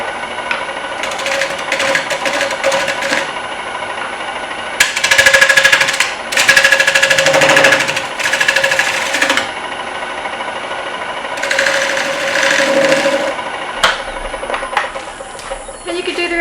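A power tool grinds and smooths the corners of a freshly made wooden bowl turned from a yard tree, buzzing loudly and steadily with surging, harsher passes as it bites into the wood.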